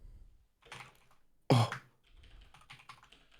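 Typing on a computer keyboard in a French word game, a few close bursts of key clicks with one loud, sharp strike in the middle, then lighter rapid tapping.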